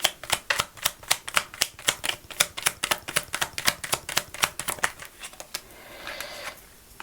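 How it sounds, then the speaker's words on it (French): Oracle cards flicked and shuffled from an intuition deck, a rapid run of crisp, evenly spaced card snaps close by, ending in a softer riffle as one card is drawn. "je vais vous tirer une petite carte de l'intuition ici."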